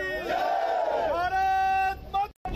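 Hindu Nav Varsh Samaroh Samiti workers chant slogans against the police administration, a loud sustained unison shout rising and holding, then a second drawn-out call, crowd voices close and strained.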